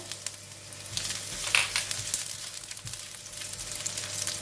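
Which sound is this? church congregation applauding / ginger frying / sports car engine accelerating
ginger frying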